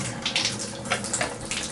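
Water gushes from a sink faucet at strong pressure, a loud continuous hiss and splash into the basin with small surges, nearby and alone.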